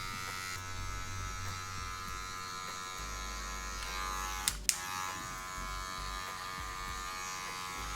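Electric hair clippers buzz steadily throughout while a barber cuts a fade, a continuous close motor drone with a brief sharp click near the middle as the blade shifts.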